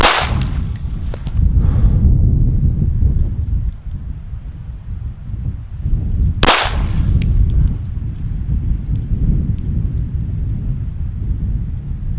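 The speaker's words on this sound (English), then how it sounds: "let's do some more shooting" Handgun shots during target shooting practice on an outdoor range: a sharp loud crack near the start and another in the middle, each ringing out over heavy wind rumble.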